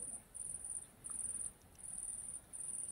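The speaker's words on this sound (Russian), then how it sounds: "Смотрите, как сверчки." Crickets chirping in a vegetable garden, a thin high trilling in steady pulsing bursts with short gaps, faint and continuous against a quiet outdoor background.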